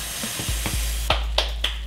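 Rainbow and galaxy grilled cheese sandwich flipped in a hot pan, a steady close hissing sizzle punctuated by a few sharp spatula taps and scrapes.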